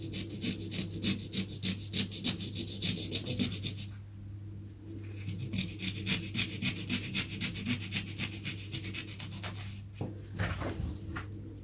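Hand sawing through a wooden wing rib for a replica WW1 Airco DH2 biplane: rapid, rhythmic back-and-forth rasping strokes, close and steady, with a brief pause before the sawing resumes.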